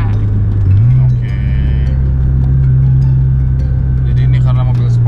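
A sports car engine accelerates from inside the cabin, a loud steady low drone that climbs in pitch near the start and then holds, with faint voices audible beneath it.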